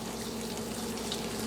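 Water poured into boxed Krusteaz waffle mix in a bowl, a steady, continuous splashing stream at moderate level with no talking.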